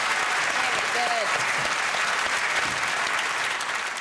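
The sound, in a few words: studio audience applause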